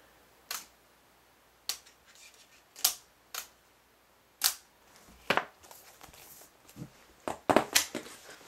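Sharp, crisp clicks of an iPad 2 leather smart cover snapping onto the tablet, a dozen or so close, isolated taps spaced irregularly, some in quick pairs, with no voice.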